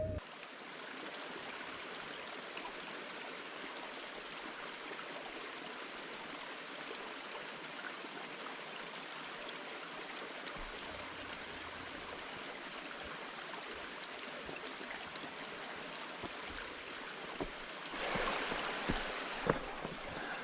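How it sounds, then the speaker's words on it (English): A waterfall and stream flowing at a forest trailhead near Heather Lake, a broad continuous rushing wash heard at steady volume throughout, with a few faint knocks and rustles toward the end and no talking. "Oh, look at that beautiful waterfall already."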